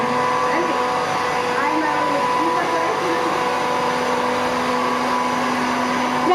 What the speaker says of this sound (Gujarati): મિક્સરના લીધે અવાજ નથી આવતો એમ